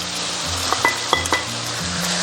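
Chives tossed into a hot wok over high heat with aromatics and pork kidney give a steady, close sizzle broken by a few sharp clinks and scrapes of the spatula against the metal.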